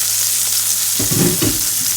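Food fries in a hot frying pan with a close, steady sizzle, joined midway by a brief burst of stirring or shifting in the pan, loud and with no voices.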